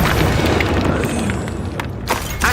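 An Incendio fire spell cast in the Hogwarts Legacy video game: a loud, booming burst of flame that rolls and fades over a couple of seconds, ending in a few sharp pops.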